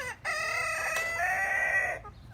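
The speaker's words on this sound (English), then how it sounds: "And speaking of roosters, that's Keegan down below us." A rooster crows once, loud and close, a long harmonic call that holds steady for nearly two seconds before breaking off.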